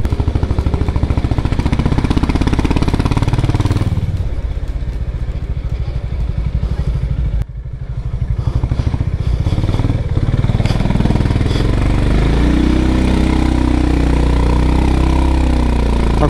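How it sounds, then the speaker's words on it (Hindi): Honda CB350RS motorcycle engine while riding, a loud thumping single-cylinder exhaust pulsing steadily, dipping briefly mid-ride then returning to a strong, rhythmic rumble with wind noise. "आपको आवाज सुनाई दे रही है मेरी बाइक की?"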